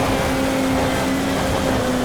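A boosted car engine from MotorStorm drones loudly and steadily, a sustained high-revving roar with a constant tone and no pauses.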